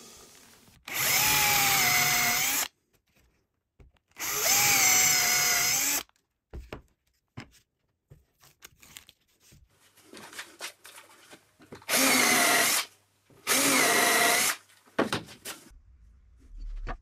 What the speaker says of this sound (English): drill out the counter bores in the sides and in the shelves for the dividers